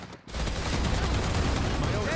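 Dense, continuous gunfire from a Valorant esports match: a loud, sustained burst of overlapping shots that begins after a brief quiet moment and runs to the end.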